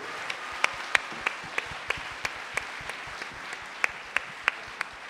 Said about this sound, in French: encore l'applaudir.